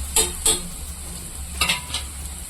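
Paneer stir-fried in a pan with onion, chilli and ginger-garlic paste, giving a few close scraping stirs over a low steady sizzle, with two sharp stirring strokes early and another pair near the end.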